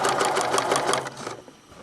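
A sewing machine stitches binding onto a quilt, a close rapid mechanical chatter that runs steadily and then slows and stops.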